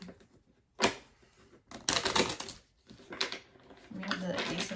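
A deck of tarot cards is shuffled in several quick, soft, papery bursts separated by short pauses, close by and fairly quiet.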